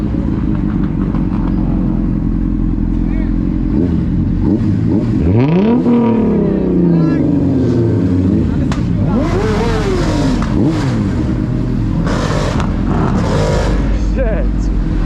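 At a night highway car meet, a Mazda Miata's engine revs and roars among other passing vehicles with rising and falling pitch sweeps, loud and close, while people shout and talk over it.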